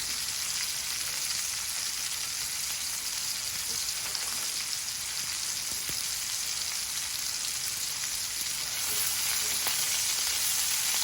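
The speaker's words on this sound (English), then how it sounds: "So I flipped them over on the other side. You got that nice brown color. The fat is cooking up nicely." Fat sizzles steadily as meat fries in a pan with thyme for a surf and turf dinner, a close, even crackling hiss that never lets up, with no voices.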